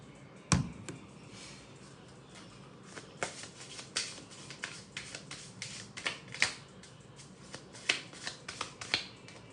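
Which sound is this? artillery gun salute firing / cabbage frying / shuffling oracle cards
shuffling oracle cards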